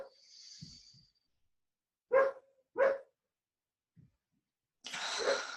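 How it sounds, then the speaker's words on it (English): Dogs bark in the distance in a few separate short bursts with quiet gaps between them. "Sorry about the dogs barking."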